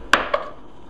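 Knife chopping a partly microwaved potato into chunks on a cutting board: two sharp close knocks about a fifth of a second apart, then quiet.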